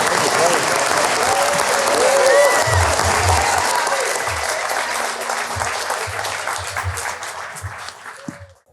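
Audience applause for two St. Louis City soccer players at a live fan event, loud sustained clapping from a large crowd with occasional cheers and whistles, fading out near the end.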